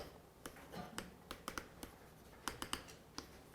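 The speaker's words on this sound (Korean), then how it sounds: "자, 한자를 써볼게요." Chalk or marker strikes a board as Chinese characters are written during a lecture, a scatter of sharp taps and short scratches against a quiet room, with no talk over them.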